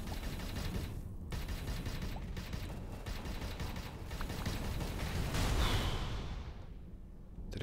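A newly acquired gun fires continuously in the space game Avorion, a dense rapid stream of synthetic shots and mechanical clatter that swells briefly with a whooshing burst before cutting off.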